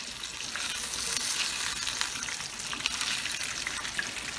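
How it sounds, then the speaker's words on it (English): Fish frying in hot oil, a steady close crackling sizzle with scattered pops throughout, no voices. "Fry that side down first, that way it can start getting crispy"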